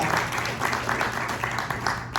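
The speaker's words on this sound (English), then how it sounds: "Give yourselves a big round of applause." An audience claps at a patriotic show held at a retirement community, a short burst of steady, fairly loud applause with a voice faintly mixed in.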